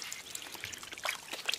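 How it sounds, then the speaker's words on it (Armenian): Peaches soaking in soda water are swished by hand, giving faint, intermittent trickling and small splashes that grow a little busier toward the end of the short stretch, with no voices. "լցնում ենք ջրի մեջ ու թողնում ենք, որ այն մի քիչ մնա ջրի մեջ, սոդայա ջրի մեջ ու սկսում ենք լվանալ"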